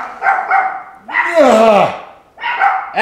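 Dogs bark and yip in short loud bursts close by in a home kitchen, with a longer whining, whimpering call in the middle and more barks after it.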